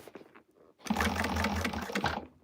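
A semi-industrial sewing machine runs in one short, close burst of sewing lasting just over a second, preceded by faint handling noises.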